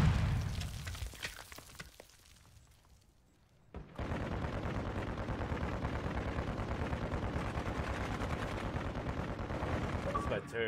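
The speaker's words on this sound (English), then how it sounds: "It's my turret going crazy." An automated turret in a military shooter video game fires in loud, sustained rapid bursts, briefly pausing before a dense unbroken stream of gunfire resumes and continues to the end.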